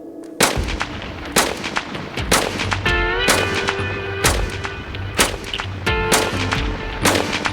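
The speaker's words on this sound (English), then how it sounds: "All right, firing in 3, 2, 1." Eight gunshots fired into the air, loud sharp cracks spaced roughly a second apart, each with a ringing echo, heard close and with no talking.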